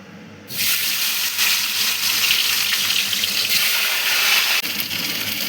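Fish heads dropped into hot oil set off a sudden loud, hissing sizzle after a brief quiet moment, then a steady, close, crackling fry with no talk.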